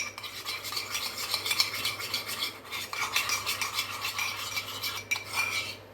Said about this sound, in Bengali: 3 চামচের মতো দই নিয়ে ভালো করে ফেটিয়ে